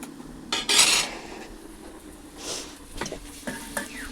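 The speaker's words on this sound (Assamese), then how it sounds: "ঢাকনিখন লগাই এতিয়া উতল আহিব দিম ভালদৰে" A metal lid clanks onto a cooking pot, with a bright ringing clatter followed by a few lighter taps and scrapes of cookware nearby.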